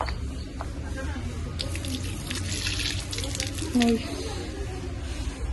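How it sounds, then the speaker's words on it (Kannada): Hands are washed under a running water tap at a family stop in Mantralaya, producing a steady splashing flow with background chatter around it. "ಈಗ ಎಲ್ಲ ಕೈ ತೊಳ್ಕೊತಾ ಇದ್ದಾರೆ"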